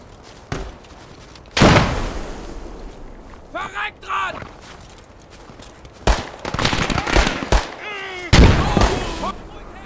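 Pistol shots and booming gunfire ring out in the WWII strategy game Gates of Hell, with several sharp, loud bursts spread across the stretch, some trailing into echoing tails, while a voice talks between the shots.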